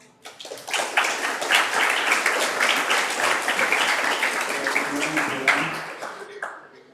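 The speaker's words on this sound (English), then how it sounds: "Please welcome with a big round of applause." An audience at an international civil engineering webinar claps to welcome a moderator: a dense, steady patter of applause that starts abruptly, holds strong for several seconds, then thins out and fades.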